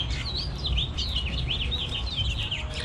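Several birds chirp and call steadily around a backyard feeder and crabapple tree, with bright, repeated tweets sounding close and fairly loud over a low outdoor rumble.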